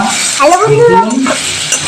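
Potatoes salted and dusted with turmeric fry in a pan for a Bengali green-tomato sour dish. A short burst of loud, close stirring and scraping rides over a sizzling background.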